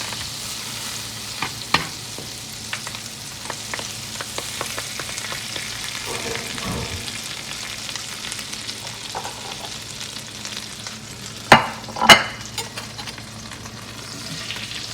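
Butter melting in a very hot, well-greased pan, giving a continuous close sizzle and a couple of sharper clatters toward the end.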